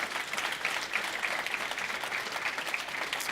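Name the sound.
audience round of applause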